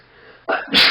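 A single sharp sneeze bursts out at the end of a quiet pause on a 1995 Jeopardy! PC game, loud and close, with a short intake before the explosive release.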